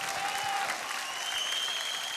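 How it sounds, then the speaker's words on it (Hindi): Loud, sustained applause from a dance competition audience, a steady wash of many hands clapping with faint tonal stage music or effects ringing through underneath. "जोरदार तालियां हो जाए शक्ति के लिए"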